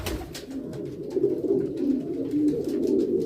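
Homing pigeons coo in a low, rolling, continuous murmur as a male chases a female, the layered calls steady and fairly close with a few brief flutters.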